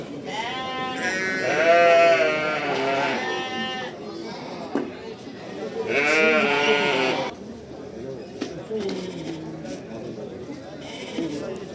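Sheep and lambs bleating at a sheep market in Ganja, several loud, wavering calls in close succession with pauses between, someone talking over and between them.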